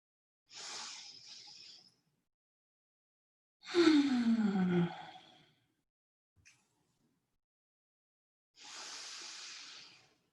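Three separate deep breaths during a chair yoga session: a long forceful exhale in the middle, with softer breathy inhales and exhales on either side, close and fairly quiet, with silent pauses between.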